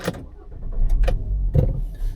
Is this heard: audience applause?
no